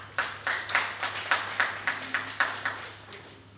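Steady, evenly spaced hand claps from an audience at a political talk about Uvira in South Kivu, about a dozen crisp claps over a faint low hum, with no voices.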